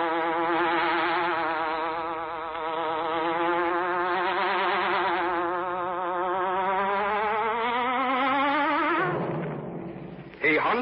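Buzzing hornet sound effect from the Green Hornet radio show, a loud, continuous droning buzz that wavers in pitch for several seconds before breaking off abruptly near the end.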